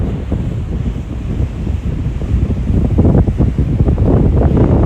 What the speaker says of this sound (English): You just really feel the power of the ocean and the wind.